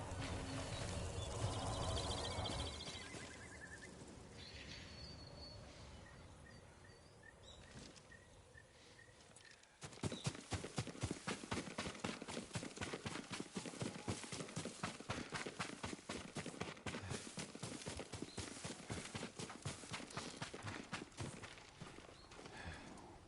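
Horse hooves clip-clop in a steady walking rhythm in Ghost of Tsushima, close and clear, after a quieter stretch of outdoor ambience with faint birds and insects.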